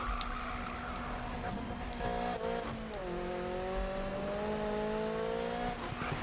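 Engine of a Volkswagen Golf racing in Need for Speed, a steady droning note that climbs in pitch as it holds revs, with brief tire squeals, constant and close.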